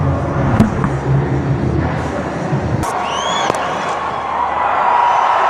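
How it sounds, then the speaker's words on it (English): A large stadium crowd at an RCB versus SRH IPL cricket match roars in a sustained, loud wash of cheering that swells after a sharp bang midway, with a commentator's voice faintly beneath. "a huge cheer from the crowd"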